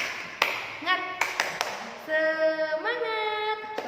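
Schoolchildren in an Indonesian primary classroom chant the 'tepuk semangat' spirit clap, with sharp hand claps scattered among sustained, sung voices at close range.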